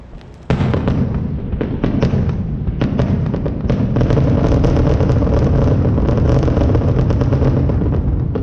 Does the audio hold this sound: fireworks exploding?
yes